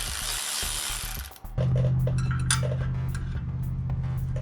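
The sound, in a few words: backing out a bolt on a Toro Timecutter zero-turn mower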